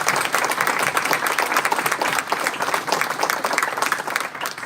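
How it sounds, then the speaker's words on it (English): Audience applause for inductees at the close of a fraternity and sorority Hall of Fame homecoming ceremony, a steady, dense roar of many hands clapping that holds for several seconds before easing slightly at the end. "let us offer our inductees one final round of applause"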